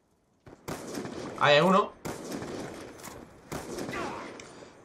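Distant gunfire from the video game Black Ops 2 crackles in bursts behind someone speaking Spanish, with a louder burst near the start and repeated volleys through the rest.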